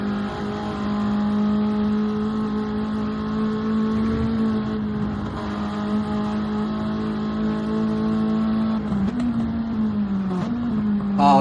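DTM Legends racing cars climb uphill on the Nürburgring circuit, one closing fast on another, their engines droning loudly and continuously with a rising, sustained pitch, a slight surge near the end.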